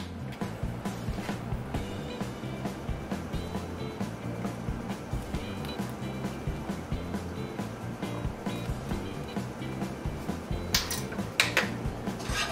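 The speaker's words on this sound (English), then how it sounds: "whisk that together really good" A whisk beats vanilla extract into a warm chocolate peanut butter cookie mixture in a pot, giving quick repeated metallic clicks and scrapes against the pot sides in a steady rhythm, up close with no talking.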